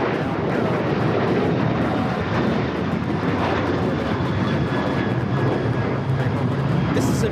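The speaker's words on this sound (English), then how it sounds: "This is American Airlines 1994 taking off to Phoenix on the 737-800." An American Airlines Boeing 737-800 takes off from LAX bound for Phoenix, its jet engines producing a loud, continuous roar that stays steady and broad throughout.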